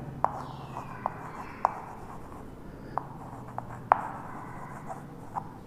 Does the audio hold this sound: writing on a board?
yes